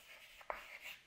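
Pen or marker writing out a Pythagorean theorem equation, a few brief scratchy strokes close by, quiet and isolated with no talk.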